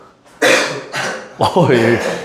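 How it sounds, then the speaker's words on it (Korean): A person gives a few short, forced coughs close to the microphone, sharp bursts separated by brief pauses, with a voiced groan in the middle. "일부러 기침하고"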